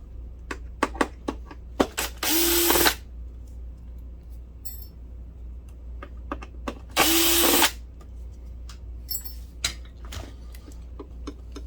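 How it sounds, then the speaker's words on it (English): Screws are being removed from the cooling fan inside a Mitsubishi HC2000 DLP projector: two short whirring bursts of a powered driver, with scattered ticks and metallic clinks in between, close up and with no talking. "I'm actually going to unscrew this fan."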